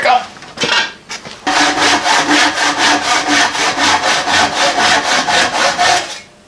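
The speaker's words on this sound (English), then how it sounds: "That's all you need, a rusty crosscut saw, you're good to go." A rusty crosscut saw cuts through wood in a rapid, even run of about fifteen rasping strokes after a few hesitant starting pulls, close and loud with no talking.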